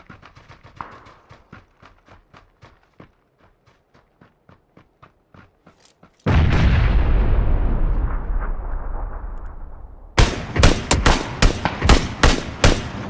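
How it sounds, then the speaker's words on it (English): Video game gunfire, an SKS rifle among the weapons: a run of sharp, evenly spaced shots, then a loud sustained boom that fades, followed by a rapid burst of heavy close shots. "We take a couple shots here from these northeast guys."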